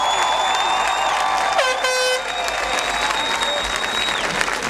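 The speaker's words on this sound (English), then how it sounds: "How about a round of applause for our graduates?" Loud applause from a university graduation crowd cheering graduates, with several air horns tooting and blaring over the clapping, one sweeping tone in the middle.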